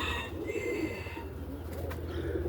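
Roller pigeons in a loft coo softly and continuously, low murmuring calls layered over steady background hum, with a few faint higher chirps.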